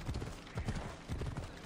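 Horse hooves clip-clop in a steady, close, moderately loud rhythm as a horse is ridden in the video game Assassin's Creed Odyssey, with no talking.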